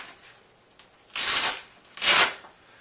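Camera bag straps on a Think Tank Retrospective 7 bag rustle and slide as they are handled and taken down, two close swishing bursts of fabric and webbing with a quiet gap between.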